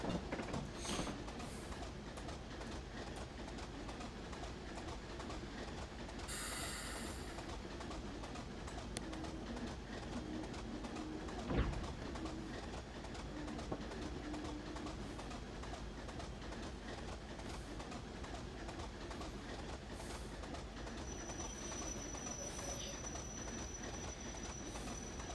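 A Class 25 diesel locomotive train on the Weardale Railway rumbles steadily and closely for the whole stretch, with rail noise, a brief squeal and birds calling in the background.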